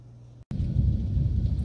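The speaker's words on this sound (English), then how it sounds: "listen to that wind" A brief dropout, then a heavy, roaring rumble of hurricane wind and storm noise, with thunder, surges in and holds loud and steady.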